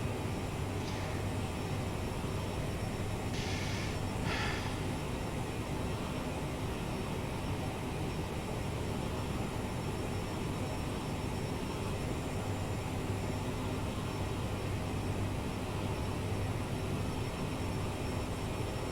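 Jet engines of a CRJ-700 regional airliner at takeoff in a flight simulator, a loud, steady broadband roar with constant low rumble and a high whine that never lets up.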